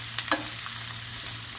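Red cabbage and onion sautéed in a pan, with soft scrapes of stirring over a low, steady sizzle. Quiet and close, with no talking.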